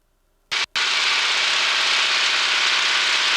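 A warbird's piston aircraft engine held at 2,000 RPM for a magneto check: a short loud burst and brief cut, then a continuous, loud, steady roar.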